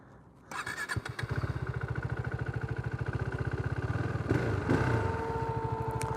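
A 2017 KTM RC390 motorcycle engine starts with a short starter whir, then settles into a fast, even idle thump, close and loud, with a faint tonal whine above and a slight rev near the end.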